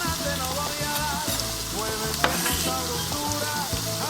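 Garlic heads, garlic powder and sazon seasoning sizzle as they are stirred in a frying pot for Puerto Rican rice, a steady close crackle running throughout beneath tuneful background music.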